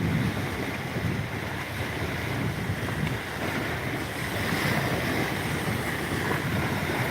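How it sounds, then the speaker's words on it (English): Wind rushes over open water in a steady, broadband roar with buffeting against the microphone and a soft wash of waves beneath, continuous and fairly loud throughout. "I think the wind's dying a little."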